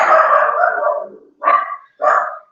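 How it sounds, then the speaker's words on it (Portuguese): Small dogs barking indoors, a long run of overlapping yaps followed by two short separate bursts, close and loud with no talk over them. "minhas cachorrinhas começaram a latir"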